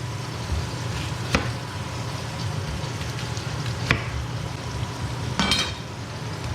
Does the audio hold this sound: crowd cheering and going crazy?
no